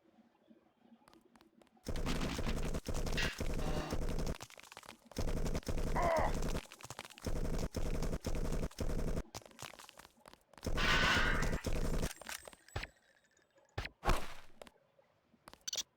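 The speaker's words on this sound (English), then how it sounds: "They look like they're shooting each other." Bursts of automatic gunfire from characters shooting each other in Deus Ex, loud rapid rattling volleys in several long strings separated by short pauses, then a few isolated shots near the end.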